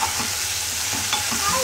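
Brinjal and finely chopped spring onion being stirred in a frying pan, a steady close sizzle with a few soft scraping strokes of the spoon over about two seconds.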